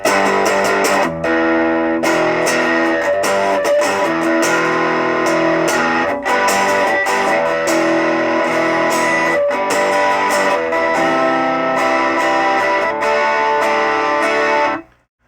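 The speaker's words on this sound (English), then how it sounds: "We'll roll the distortion down first, though, just kind of so you can hear what it sounds like" Electric guitar through a RAT 2 distortion pedal, heavily distorted chords ringing out loud and continuous, with a few brief pauses between strummed phrases before cutting off at the end.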